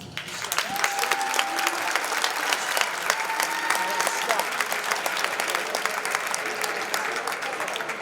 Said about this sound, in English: As each senior player is announced, we ask that you step forward and we applaud your efforts to leadership and sportsmanship.